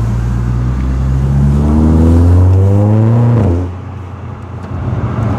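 A car with an aftermarket exhaust accelerating up through the gears, a loud, close, droning engine note that rises in pitch, drops at a shift and settles to a lower rumble.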